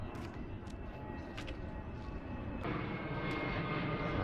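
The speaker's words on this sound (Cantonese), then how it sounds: "飛機" A fixed-wing airplane passing overhead above a park with falling cherry blossoms, a steady broad engine roar that holds throughout and swells slightly toward the end, with no talk.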